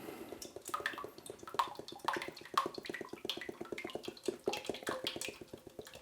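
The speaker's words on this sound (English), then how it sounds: "in goes our 1 litre of oil" A full litre of cooking oil is poured into a pan for a Chinese takeaway-style curry sauce. It gives close, uneven glugging and splashing pulses over a quiet steady background.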